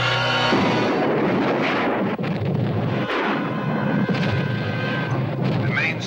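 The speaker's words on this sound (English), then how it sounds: "The main storage tank of the Japan Oil Company has exploded." The main oil storage tank of the Japan Oil Company explodes in a Godzilla film, a dense, roaring, sustained blast rumble with crackling debris that fills the whole stretch at full loudness.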